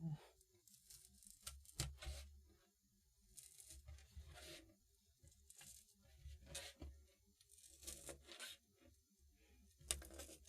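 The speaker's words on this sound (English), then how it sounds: "Because these scissors seem to be quite dull." Dull scissors cut craft material for Halloween crafts with quiet, close snips and rasping tears that come in irregular short bursts with brief pauses between them.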